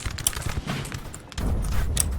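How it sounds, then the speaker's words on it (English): Six-pounder artillery of the Bavarian Republic fires in a Napoleonic battle in the video game Napoleon Total War, with several sharp reports and crackling shots followed by a heavy, sustained rumble of cannon fire. "here we have some 6-pounder artillery of the Bavarian Republic, the French puppets"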